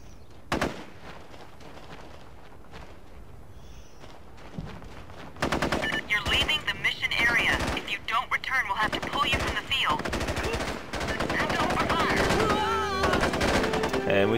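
In the video game SOCOM 3: U.S. Navy SEALs, after a quiet start with a few sparse sounds, rapid bursts of automatic gunfire erupt and continue densely, loud and close, until the end.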